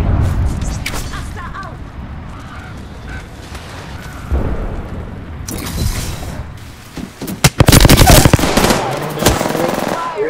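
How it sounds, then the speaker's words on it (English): Apex Legends gameplay with a thermite grenade thrown amid combat: rapid bursts of gunfire and sharp impacts, growing louder and denser toward the end, with a fiery crackling burst. "Throwing thermite grenade. Thermite grenade out."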